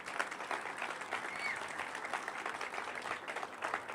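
Audience applause at a mayor's press conference on the I-95 cap project, steady, dense clapping that fills the room at a moderate level without pause.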